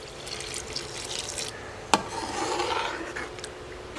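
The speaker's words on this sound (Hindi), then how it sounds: "अब हम इसमें ½ लीटर पानी जो है वो शामिल करेंगे" Half a litre of water poured into a pot of haleem on the stove, a steady close splashing and rushing pour with a brief sharp knock near the middle, no talking.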